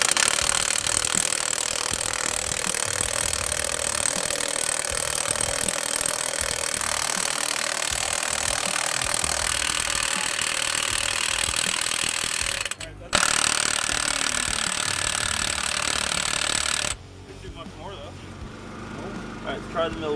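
An impact gun hammers loudly and continuously while tightening a bolt during a truck light bar install, with a brief break near the end before it stops and a quieter tail follows.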